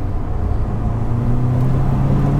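A turbocharged 240hp Mk1 VW Golf GTi engine pulls hard under load, a loud, steady rising drone that thickens and climbs in pitch toward the end, with no voices over it.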